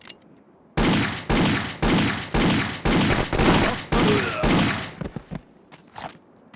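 Submachine gun fire in the Indiana Jones and the Infernal Machine game rattles out as about seven loud, evenly spaced bursts in close succession, then trails off into a few scattered, quieter shots.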